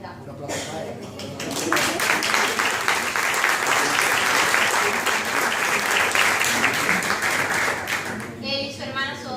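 Audience applause at a cultural lecture hall event in Seville: dense, steady clapping from a full room swells in after a brief lead-in and holds for several seconds before thinning, with a voice speaking around it.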